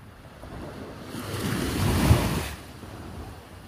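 Winter sea waves washing ashore at Torrevieja, Spain, a steady soft surf that swells to a louder crash near the middle, with wind rumbling across the microphone and no one speaking.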